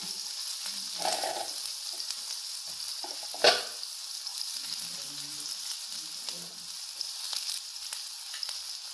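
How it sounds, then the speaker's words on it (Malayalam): Onion, ginger, garlic and chili fry in butter while being stirred, a close, steady sizzle broken by scraping strokes and one sharp clunk of the utensil against the pan. "കുറച്ച് കറിവേപ്പിലയും ഇട്ട് ഇളക്കാം"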